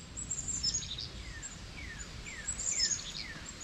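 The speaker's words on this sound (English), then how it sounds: "Loudest birds ever." Birds call repeatedly outside a 2008 Arctic Fox 805 Silver Fox Edition truck camper, with short descending chirps and high trills at steady intervals over a low rumbling background; they are moderately loud and no one speaks.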